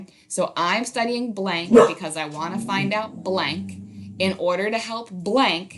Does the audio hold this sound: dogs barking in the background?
yes